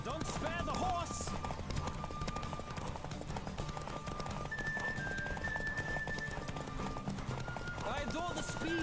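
Horse galloping in The Witcher 3 video game, steady clip-clop hoofbeats running throughout under a busy game soundtrack, with occasional whinnies and speech-like voices mixed in.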